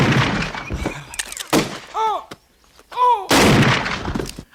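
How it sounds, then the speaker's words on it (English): Gunfire in a film scene as townspeople run and shoot wildly: loud, sharp bursts of shots in clusters, broken by brief gaps holding short high whistling or ricochet-like sounds. "everyone in town is a terrible shot and they just run and fire wildly"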